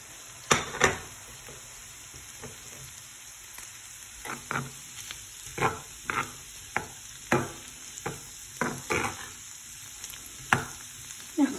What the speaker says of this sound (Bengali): খুব সুন্দর করে ভাজা হয়ে গেছে। তো এখন আমি ধনিয়া পাতাটা দিলাম